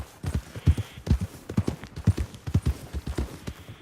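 A horse gallops in Red Dead Redemption 2, its hooves beating a steady, rapid clip-clop rhythm close by, loud and continuous with no talk over it.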